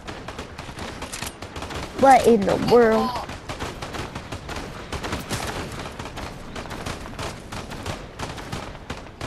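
Rapid bursts of gunfire from the video game Fortnite crackle steadily throughout, with a person briefly speaking over the shots early on.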